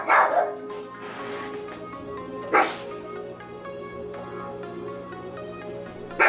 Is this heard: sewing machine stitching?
no